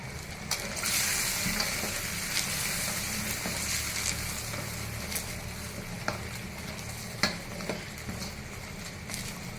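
Pork ribs for Peking-style ribs fry in a pan with a continuous loud sizzle, punctuated by occasional scraping stirs and clinks, with no speech.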